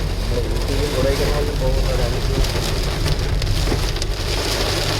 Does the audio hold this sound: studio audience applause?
no